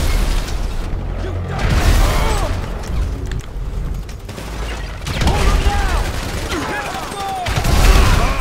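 Gunfire rattles through a Grand Theft Auto V heist shootout, loud overlapping bursts and pops with mechanical clatter and booms, continuous throughout with rough surges.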